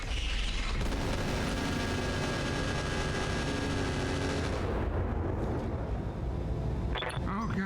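Mechs trading weapons fire in the BattleTech (RogueTech mod) video game, with missile launchers among the arms: a dense, loud barrage of booms and blasts rolling steadily for several seconds before easing off, with no talking.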